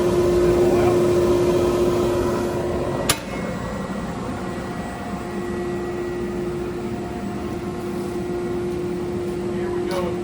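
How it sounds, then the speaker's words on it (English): A Cushion Pack CP320 S2i+ cardboard shredder runs with a loud, steady mechanical drone and a constant hum, one brief clack partway through, no voices. "And now the machine will output flattened material."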